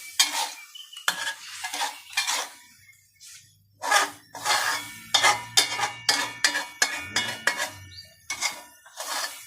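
Vegetarian fish balls stir-fried in a pan, seasoned with pink salt, sugar and seasoning sauce, for a spicy stir-fry with straw mushrooms: repeated close scraping and clinking of a utensil against the pan over a soft sizzle, in steady rhythmic strokes.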